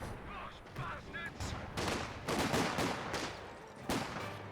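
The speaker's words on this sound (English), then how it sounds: "And Sidewinder, he's got 3-inch mortars up." 3-inch mortars firing in a video game battle, with a run of dull booming blasts and rumbling bursts that come in clusters over a commentator's voice.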